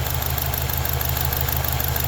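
A Honda CR-V engine idles roughly with an ignition misfire, heard up close as a loud, steady low rumble with an uneven pulsing beat and no talk.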